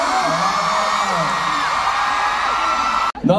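A concert crowd at a fan meeting screams and cheers in a loud, sustained wall of high-pitched shrieks and whoops. The noise breaks off abruptly just before the end, where a voice briefly cuts in.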